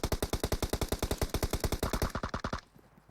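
Rapid full-auto fire from an M4 rifle in PUBG Mobile, heard as a long steady burst of sharp, evenly spaced loud shots that stops abruptly after about two and a half seconds.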